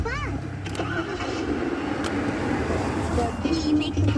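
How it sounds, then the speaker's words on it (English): Fisher-Price Laugh and Learn 3-in-1 Smart Car toy playing its recorded engine-start sound as the key is turned, a car cranking and catching into a steady idle that carries through to the end, with a voice talking over the start. "The key makes the car go on"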